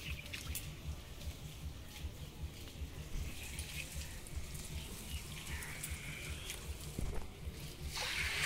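Rainwater runs steadily off a sloped rooftop, a continuous soft wash and trickle with scattered drips, fairly close and even throughout, with no talking.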